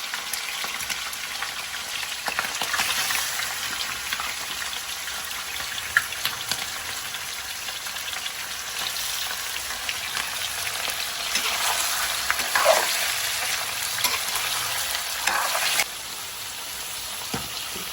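Large chicken pieces sizzle and crackle steadily in hot oil with blackened fenugreek in a pan for biryani, a dense, fairly loud frying hiss with occasional pops and stirring swells, no voices.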